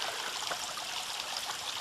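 Water trickling steadily down a small waterfall beside a hiking trail, a continuous close hiss and babble of flowing water with no voices.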